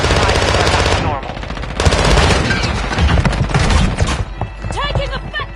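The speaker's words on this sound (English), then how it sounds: "Taking effective fire!" Rapid automatic gunfire from a military shooter video game fires in loud, dense bursts that run nearly continuously, with brief gaps between volleys.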